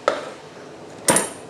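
A knife chops roughly through onions on a board, giving two sharp, close knocks about a second apart with quiet in between.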